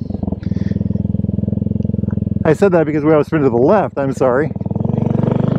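A Royal Enfield Scrambler 350 motorcycle idles with a loud, steady thumping beat, then revs hard in several rising and falling bursts during a wheel spin before settling back to idle; a voice speaks briefly.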